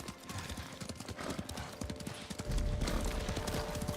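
Steady clip-clop of horse hooves in Ghost of Tsushima, a close rhythmic run of hoofbeats over a busy outdoor background, with a brief whinny-like note and no talk.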